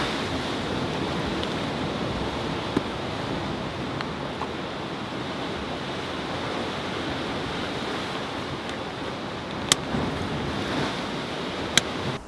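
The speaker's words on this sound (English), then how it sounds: "Look at these waves." Rough sea waves break and roll along the Jurassic Coast below a headland, a constant heavy roar of surf mixed with gusty wind, with occasional small clicks and no talking.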